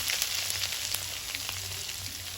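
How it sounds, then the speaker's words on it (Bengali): Whole cumin and garlic frying in leftover chicken oil in a wok give a steady, close crackling sizzle, broad and hissy with small pops throughout, and no voices. "কড়াইতে যে চিকেন ভাজার তেল আছে তেলের মধ্যে দেব গোটা জিরে"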